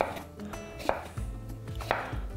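A knife slices fresh mini cucumbers, halved lengthwise, into pieces about half a centimetre thick on a board; a few distinct, close chopping knocks land at a steady, unhurried pace with no talking.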